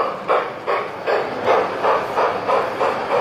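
An LGB model garden train runs along its track at a rail-running weekend in Rotterdam, giving a loud, steady rhythmic hiss with regular clicking pulses from the wheels, close by and with no voices.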